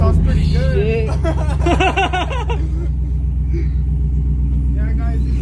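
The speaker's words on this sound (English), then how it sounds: "after taking off the mufflers or the mufflers, this is how it sounds" An Audi A4 with its mufflers removed, a loud, deep exhaust rumble idling steadily throughout while people laugh and talk over it.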